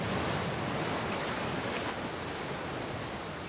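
Ocean surf rolls and breaks continuously, a steady broadband wash of waves at moderate distance with some wind noise and no voices.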